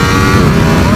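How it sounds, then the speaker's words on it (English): Engine note of a 2018 Ducati Panigale V4S motorcycle under way, a loud, dense roar heard up close for a brief moment with no speech. "I hope you can hear that engine note"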